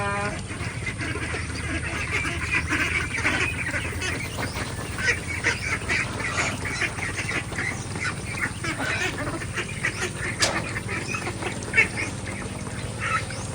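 Domestic ducks quack busily as they are let out on a small farm lot, a dense, continuous chorus of close, overlapping calls with honking tones mixed in, steady throughout with an occasional louder squawk.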